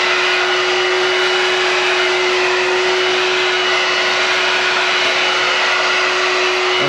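A carpet sweeper runs over a rug picking up small debris, a loud steady motor whine with a constant tone, close by and uninterrupted for the whole stretch.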